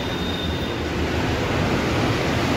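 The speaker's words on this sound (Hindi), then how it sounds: "ट्रेन आ चुकी है, ये पहली मेट्रो है" A driverless Mumbai Metro Red Line train arriving at the station, heard as a steady, loud broadband rumble of the train with a faint high whine early on and no talking.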